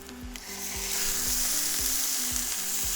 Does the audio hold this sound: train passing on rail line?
no